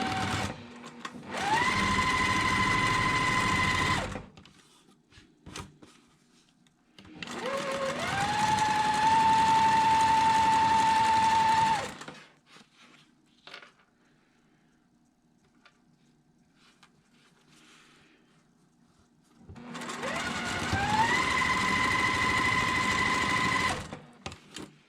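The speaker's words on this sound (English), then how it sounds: "then we're going to stitch on both sides of that diagonal line again" A sewing machine stitches quilt block pieces along a diagonal line in three loud, steady bursts of several seconds each, separated by quiet pauses while the fabric is repositioned.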